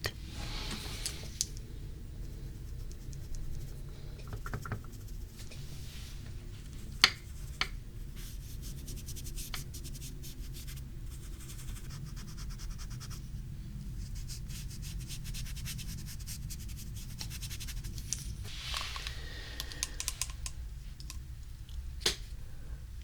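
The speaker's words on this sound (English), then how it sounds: "If you hear me tapping my brush like so, I'm simply removing the excess product" Soft tapping of a makeup brush to shake off excess product, with faint scattered clicks and gentle rubbing over a quiet background hiss, close and delicate with no voices.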